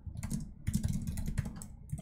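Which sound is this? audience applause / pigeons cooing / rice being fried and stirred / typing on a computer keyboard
typing on a computer keyboard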